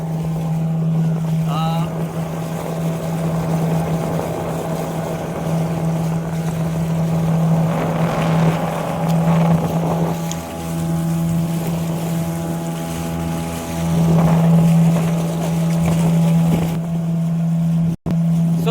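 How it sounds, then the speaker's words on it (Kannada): A motorboat engine drones steadily and loudly on a mangrove estuary, heard from a small wooden boat, its hum swelling and shifting as another boat approaches, with wind and water noise throughout. "ಫ್ರೆಂಡ್ಸ್ ನೋಡ್ತಿರ್ಬೋದು, ಬೋಟ್ ಬರ್ತಾ ಉಂಟು."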